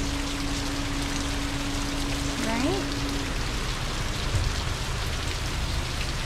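Steady rain patters outside a house in Port Saint Lucie, Florida, a dense continuous hiss throughout, with a brief spoken word partway and a short tonal chirp near the middle.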